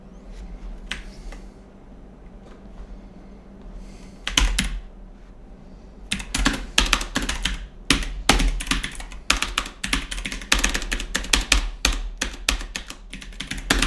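Rapid computer keyboard typing during a RimWorld game stream, starting with a few sparse keystrokes and building into dense, close-up clattering bursts of key presses.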